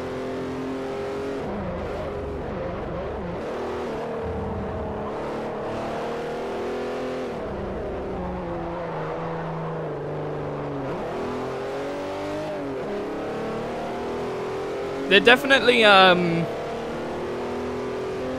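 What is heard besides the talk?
race car exhaust and engine in Forza Motorsport 4 video game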